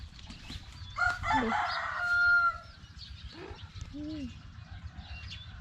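Chickens cluck and a rooster crows close by on a rural Thai farm, one long crow followed by scattered short clucks and calls over a low background rumble.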